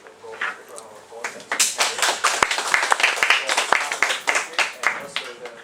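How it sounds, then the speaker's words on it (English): Enthusiastic round of applause from an audience at the close of a workshop session on fMRI study, many hands clapping densely and steadily after a brief quieter start, with a few louder claps standing out. "let's give a big round of applause."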